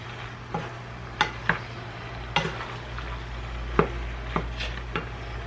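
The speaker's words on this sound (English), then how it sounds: "I'm just going to kind of stir this all up, get that buttery sauce in it." Food being stirred through a buttery sauce in a pan, a soft continuous sizzle under a low steady hum, broken by a handful of sharp utensil scrapes and clicks at irregular intervals, close by with no talking.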